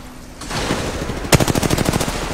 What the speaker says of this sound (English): Shooting at me. Firing.